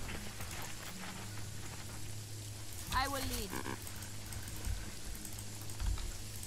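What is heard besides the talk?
heavy rain in Jagged Alliance 3 video game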